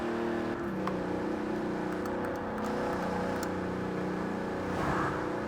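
Bentley Turbo R engine in Forza Horizon 4, a steady loud hum with layered harmonics as the car cruises and holds revs, rising slightly toward the end, no voices.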